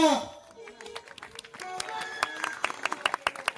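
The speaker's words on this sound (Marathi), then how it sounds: "अगं वाजवाची जोरात टाळ्या" An audience at a traditional folk dance show claps in scattered, rising bursts, the rhythmic hand claps growing denser and louder over a voice calling out at the start.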